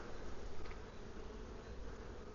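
Honey bees crowd the top cover of a Wisconsin hive during a heavy nectar flow, making a dense, steady drone that stays close and unbroken throughout.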